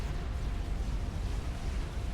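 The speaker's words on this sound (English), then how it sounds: "We have an explosion there." Explosion in the real-time strategy game Supreme Commander: Forged Alliance during a 4v4 match, a dense, sustained low rumble of blasts that stays fairly loud throughout with no talk over it.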